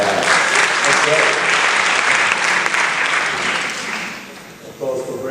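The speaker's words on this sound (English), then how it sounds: "Applause for Brittany" An audience at an advertising festival session applauds loudly and steadily for a speaker, the clapping fading toward the end as a voice begins to speak.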